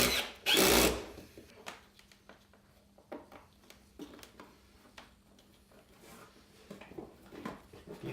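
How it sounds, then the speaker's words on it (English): A 1/4 inch drill bit bores into the plastic footboard of a 24 volt Dune Racer ride-on toy, one loud close burst of whirring near the start, followed by quieter clicks and handling knocks. "So I'm just going to take a 1/4 inch drill bit."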